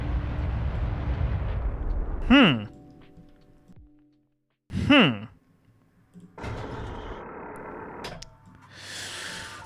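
A rocket in Kerbal Space Program jettisons its first fuel tanks. A steady engine rumble is broken by two sharp whooshing bursts, and after a brief silence a buzzing mechanical drone and hiss take over.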